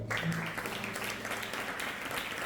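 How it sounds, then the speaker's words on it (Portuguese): Applause from a church congregation, steady and fairly loud, lasting throughout with no pauses. "Dá umas palmas no Senhor"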